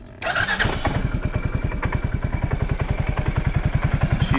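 A 2003 Suzuki Burgman 400 scooter engine cranks and catches, then runs at a steady, rapid idle with an even pulsing beat and light mechanical clatter, loud and close with no talking.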